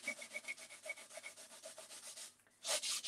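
A gentle abrasive finishing pad scrubs an old rusty file cabinet in quick, rhythmic back-and-forth strokes, close and crisp, ending in a brief pause and then a louder rasping burst.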